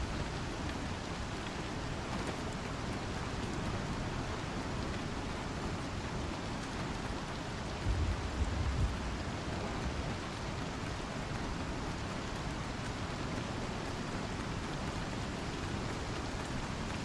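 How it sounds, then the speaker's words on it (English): Steady rain falls in a space sim video game, a constant broadband hiss of drops that holds evenly for the whole stretch with no other sounds on top. "Looks like rain, Ted."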